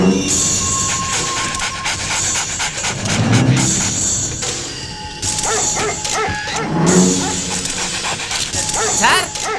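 A police dog barks and pants amid a busy scene with voices talking, mechanical noise and background music, the barks recurring in short bursts throughout.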